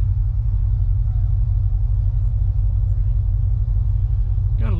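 A blue Ford Thunderbird at an outdoor car show sends out a loud, deep, steady engine rumble close by. A voice briefly cuts in at the end.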